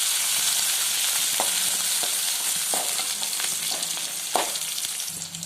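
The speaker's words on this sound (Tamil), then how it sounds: "இப்போ வந்து தக்காளி வதங்கிட்டு இருக்கு" Onion, crushed garlic and tomato sautéing in a pan, a close, steady sizzle broken by occasional scraping stirs and light knocks, with no one speaking.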